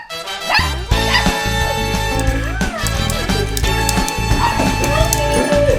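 Several excited dogs yip, bark and whimper in greeting as their owner returns home, loud and close with overlapping high squeals and whines throughout.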